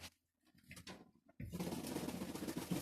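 Kirovohrad pigeons in a loft, with scattered soft sounds and faint cooing before a sudden burst of louder fluttering and busy bird noise that fills the rest, close by.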